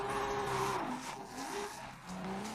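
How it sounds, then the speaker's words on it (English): A 1600 HP 2JZ Toyota Supra in Forza Horizon 5, its engine revving up and down through several shifts with rising and falling pitch, a loud buzzing exhaust note and hints of tire squeal. "the Supra, on the other hand, made a sound that is much more stylish"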